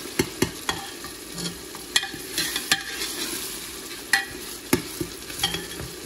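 Oil tadka frying for aloo matar sabzi, a steady crackling sizzle up close punctuated by repeated sharp taps and scrapes of a ladle against the pan.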